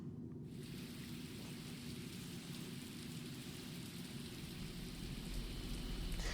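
Steady broadband rain hiss falls inside the video game Scarlet Nexus, a dense continuous patter with a low rumble that swells slightly toward the end, no voices over it.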